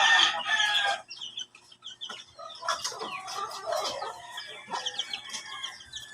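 Backyard chickens cluck and squawk at feeding time, with a rooster-like call early on and a busy, close scatter of overlapping clucks and chirps afterward, no speech.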